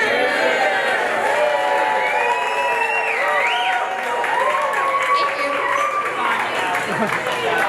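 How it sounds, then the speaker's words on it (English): Wedding reception guests cheering and applauding after a toast, with whoops, shouts and overlapping voices forming a loud, continuous crowd roar. "Let's give them a round of applause one more time"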